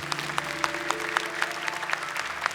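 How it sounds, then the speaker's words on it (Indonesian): Steady audience applause fills a studio during a Qur'an memorization competition show, dense even clapping with a few sharper claps standing out, no voices over it. "Boleh tepuk tangan untuk mereka."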